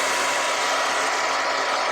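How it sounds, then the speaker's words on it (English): A handheld blow dryer runs on a warm setting with a steady, close, whooshing hiss and a low motor hum, heard alone without speech. "I'm gonna take my blow dryer on a warm setting"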